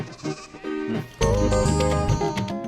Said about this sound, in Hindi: उस भेड़ को देखना।